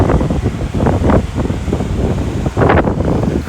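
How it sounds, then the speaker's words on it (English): Strong gusting wind on a hot day in Tombstone, Arizona roars against the microphone in loud, continuous buffeting surges that swell and ease, with no voices. "It's super, super windy."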